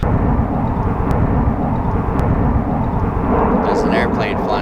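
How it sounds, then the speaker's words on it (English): A loud, steady low roar of an airplane passing overhead fills the clip, broad and rumbling throughout, with a faint voice near the end. "There's an airplane flying overhead."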